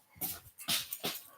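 Puppies, nearly as big as their mother, whimper and whine in three short bursts, close and fairly loud, with soft panting between.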